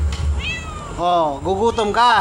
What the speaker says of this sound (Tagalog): Yan ang pusa namin.